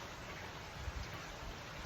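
Rain falling outdoors as a faint, steady wash of noise with no other sounds.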